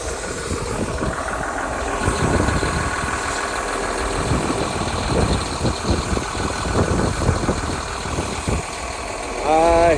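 A tractor engine idling close by, a steady low rumble with rhythmic throbbing, and a person talking intermittently over it.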